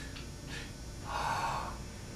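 A band member draws a sharp, audible breath just before playing on the band director's cue, a quick gasp-like intake that rises and fades within a second against quiet room tone.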